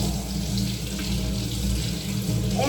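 Running tap water pours steadily into a sink as a freshly cut aloe vera leaf is rinsed under it, a close continuous splashing rush with no talk.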